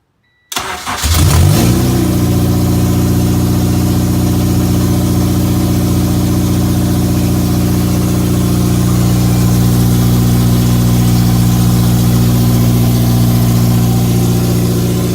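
Honda K24 A2 engine paired with a K20 A2 Type S transmission cranks and catches after a moment of silence, then settles into a loud, steady idle close to the microphone.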